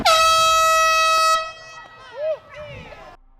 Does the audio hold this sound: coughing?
no